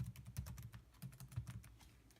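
Fingers tap out a short burst of keystrokes on a computer keyboard, a soft, close run of quick clicks with no voices.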